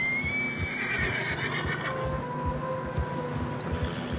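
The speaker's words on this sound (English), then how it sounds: "Horses are struggling." A horse in Red Dead Redemption 2 whinnies loudly nearby while struggling through deep fresh snow, a high neigh that slides downward, with low rumbling noise underneath.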